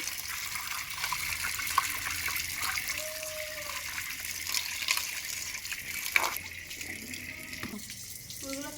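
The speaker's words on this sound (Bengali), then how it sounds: "কেটে নিয়েছে দেখো ধুয়ে নিচ্ছে" Freshly cut pumpkin leaves being washed under running water, a continuous splashing flow with occasional handling sounds and small clinks.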